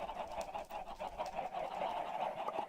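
A flock of chickens in a video game clucks and squawks over a steady hum, with short overlapping calls bunched close together at a moderate, fairly soft level.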